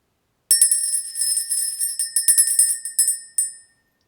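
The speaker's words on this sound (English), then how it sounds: "We're going to ring the bell, clear that energy" A small handheld bell is rung repeatedly in a release ritual. It gives bright, ringing metallic strikes in quick irregular bursts, close and clear with no talk, and the last stroke fades out.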